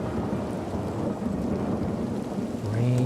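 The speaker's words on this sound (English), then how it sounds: "Rain sweeps in" Heavy rain pours steadily in a film scene while a deep rumble of thunder rolls underneath, loud and continuous, swelling slightly near the end with a low tonal swell entering.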